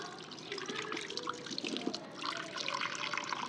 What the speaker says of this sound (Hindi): ये फ्रेश वाटर डाल दिए इधर।